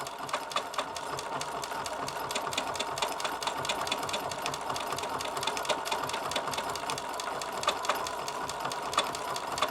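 A sewing machine stitches a banner in a rapid, steady mechanical patter, close and continuous, with evenly spaced needle clicks throughout.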